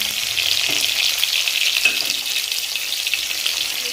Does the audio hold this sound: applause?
no